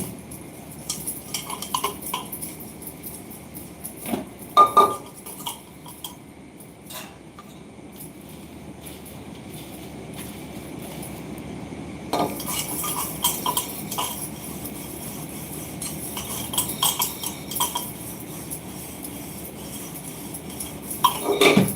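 Dishes, pots and utensils being scrubbed and washed in a home kitchen, with steady clinks and clatters of metal cutlery and pans running throughout, busier and louder in the second half.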